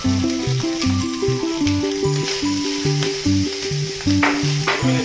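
Chicken pieces dropped into a hot pan give a continuous hissing sizzle, partly masked by louder melodic background music throughout, with no voices.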